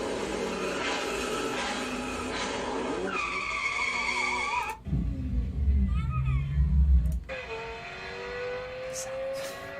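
A Lexus LFA's exhaust note plays from a recording, a smooth high-pitched rising and falling engine wail, loud and close, with a deep rumble in the middle and voices talking over it.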